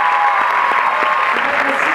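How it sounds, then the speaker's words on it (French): Applause from an audience at a film presentation fills the whole moment, steady and fairly loud, with a few voices mixed in among the clapping. "mais on peut les applaudir aussi"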